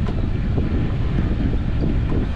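Wind buffets the microphone aboard a solo sailboat leaving Dakar on a seven-knot breeze, a dense, steady roar with low rumbling gusts and no voices.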